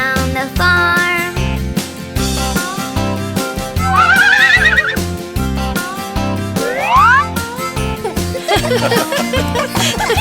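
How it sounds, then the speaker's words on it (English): A cartoonish horse whinny from a children's farm song, with two high, wavering neighs over a bouncy, loud backing track, played along with chuckling and springy boing effects. "The pretty old horse says neigh, neigh, neigh"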